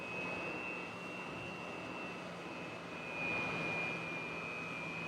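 Su-27 jet taxiing toward the runway in DCS World, a steady even jet engine whine and rumble with a thin high tone, holding level throughout and swelling slightly near the end, no voices.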